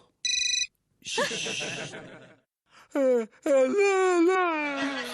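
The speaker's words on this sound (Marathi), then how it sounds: "हा नक्की तुमच्या त्या रंभेचा फोन असेल" Telephone ringing in a Marathi Doordarshan TV serial sounds as one short electronic ring burst near the start, followed by a musical stinger and expressive vocal sounds.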